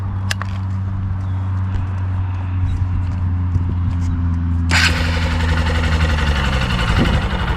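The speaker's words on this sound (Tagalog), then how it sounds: "So i-try natin pakinggan yung stock exhaust niya." A 2024 Honda XR150L dual sport motorcycle idles steadily up close through its stock exhaust with a low, even thrum, then a sharp hissing burst joins partway through.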